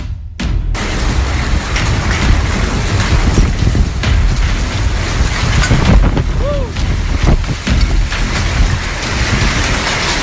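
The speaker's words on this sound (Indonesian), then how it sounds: "Angin berkecepatan tinggi terjang Kumluka," A high-speed windstorm batters Kumluka, Turkey, with loud, continuous roaring gusts and buffeting against the microphone, along with rushing, rain-like noise throughout.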